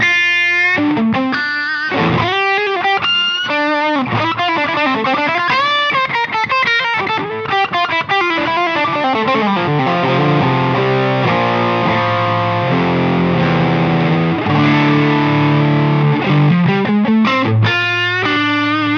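Electric guitar played through a full range boost pedal set at noon after a mild crunch drive, loud sustained chords and ringing single notes with a thick, slightly distorted tone throughout.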